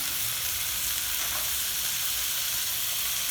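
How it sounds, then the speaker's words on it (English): Chopped onions and potatoes sauté in a pan with a constant, even, close sizzle and faint stirring underneath, with no talk. "I am going to saute, chopped onions"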